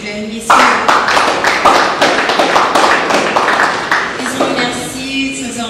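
A seated audience at a Congolese youth personality development conference breaks into close, loud applause that starts suddenly and keeps up as a dense run of claps for several seconds.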